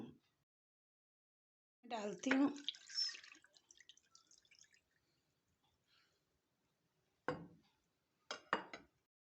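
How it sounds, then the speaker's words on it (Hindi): Water is poured over mutton liver in a bowl while washing it, one longer splashing pour followed by two short splashes, close and fairly quiet with silence in between. "मैं इसमें दूसरी दफ़ा अब पानी डालती हूँ।"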